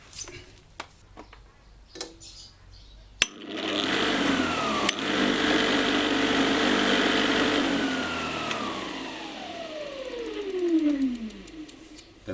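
Electric lawn mower motor switched on during a wiring test, spinning up abruptly after a few clicks into a loud steady whine, then winding down with a falling pitch as it slows to a stop.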